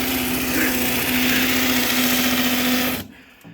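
A power drill bores into the ground while a window well is put in, a loud continuous high-pitched whine held steady at close range for about three seconds, then cutting off abruptly.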